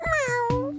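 A tiger cub in the Shimmer and Shine video game gives a short, close cartoon meow, a single bright drawn-out call heard alone.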